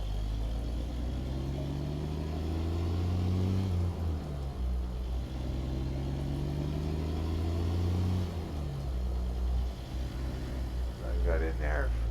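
Peterbilt 359 truck engine in American Truck Simulator, hauling cattle in Montana, labouring at low revs with a steady deep drone that shifts pitch as it strains, loud and continuous throughout.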